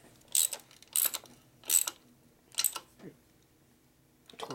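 Torque wrench ratcheting while tightening bolts during a carburetor install on a 1990 Harley FXR with an S&S E carb and 80ci Evo engine, four short close bursts of rapid clicking separated by pauses.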